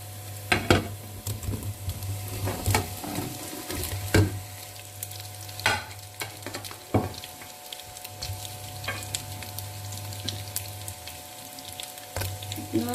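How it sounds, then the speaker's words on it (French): Sausages stirred into fried onions in a cooking pot, with a steady low sizzle beneath repeated close scraping and clattering strokes of a utensil against the pot. "on va mettre les saucisses dans la marmite."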